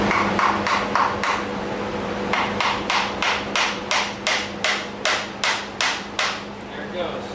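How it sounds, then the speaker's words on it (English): Repeated hammer blows strike a Chevy water pump to loosen it, about twenty sharp metallic hits in quick bursts then a slower steady rhythm, loud and close. "Might need a little hit with a hammer."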